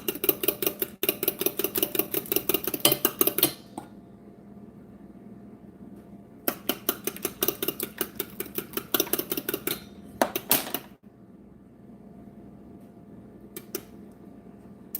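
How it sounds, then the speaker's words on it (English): Metal ladle scraping and clinking rapidly against a pot while making a Spanish bar cake, two long bursts of quick rhythmic tapping separated by a quiet pause, then a few final clinks. "I'm using a ladle, cheating."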